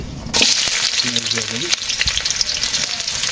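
Oil crackles into a loud, steady sizzle in a village kitchen pan as frying gets underway, starting abruptly and holding a bright hiss with a few pops and a brief tonal scrape.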